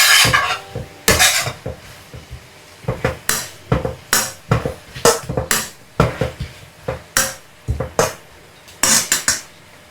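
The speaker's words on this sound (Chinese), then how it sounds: "开小火快速翻炒，把调料炒出酱香，让冬瓜均匀地裹上酱汁" A spatula scrapes and clanks against a wok while winter melon is stir-fried over low heat to coat it in a sauce. The strokes come in a brisk, regular rhythm, close and clear, with no talking.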